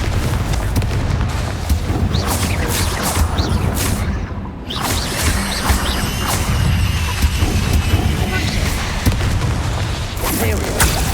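Confringo and Bombarda spells explode in Hogwarts Legacy combat, giving repeated loud booms and crashes with whooshing bursts in a dense, continuous barrage, while a voice shouts over it.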